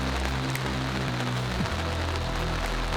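Steady rain falls during an archery elk hunt in Arizona, a dense continuous patter and hiss with a low rumble underneath, heard alone throughout.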